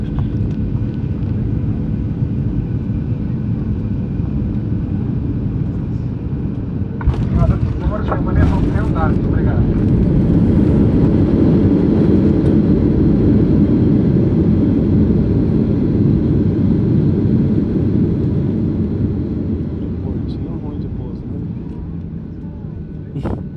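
Airplane descending to land in São Paulo near Avenida Bandeirantes, a continuous loud cabin roar of engines and airflow that swells midway and eases toward the end, with people talking over it.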